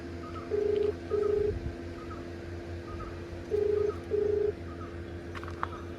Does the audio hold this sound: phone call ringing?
yes